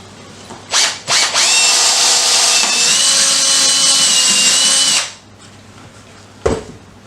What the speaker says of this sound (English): I'm actually going to drill this way this time